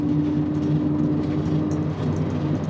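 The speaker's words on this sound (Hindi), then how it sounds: "the engine sound is very nice from this S series engine" An Ashok Leyland H-series turbocharged common-rail diesel engine of about 220 horsepower, in a light bulletproof vehicle, runs at a steady idle, a continuous low rumbling hum with no voices over it.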